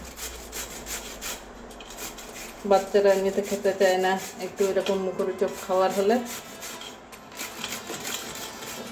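A pumpkin is rubbed by hand against a grater in a rapid run of rasping strokes, close and fairly loud, with someone speaking over them.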